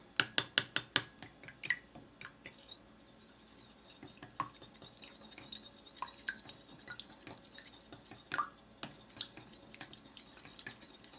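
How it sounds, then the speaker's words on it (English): A spatula mashes eggs in a bowl, making quiet, sharp taps and clicks. They come in quick bursts at first, then irregular, softer knocks. "we're going to use our spatula just to mash them up"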